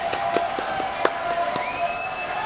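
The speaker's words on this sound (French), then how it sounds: "applaudissements pour Alan Delaby" A French television studio audience applauds a guest, a fairly quiet, even patter of hands with a few sharper claps standing out, steady for a couple of seconds without voices.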